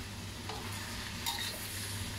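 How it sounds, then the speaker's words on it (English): Noodles being stir-fried in a hot pan for kuey teow-style noodles with sauce, a steady sizzle with soft scraping and stirring strokes, close and continuous with no talking. "Now noodles are done, I'm just gonna add it, and stir."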